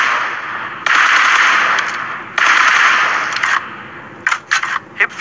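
Sustained bursts of automatic hip-fire gunfire in PUBG Mobile, two long loud sprays followed by several short rapid bursts, close and dominant with no talking.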